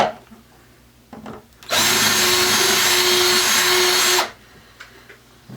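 Power drill fitted with a Phillips bit spinning inside a steel shotgun magazine tube to knock off burrs, a loud steady whine lasting about two and a half seconds, with small handling clicks before and after.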